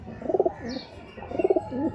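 A pigeon coos twice, close by, each a soft throbbing burble of rapid pulses followed by a lower trailing note.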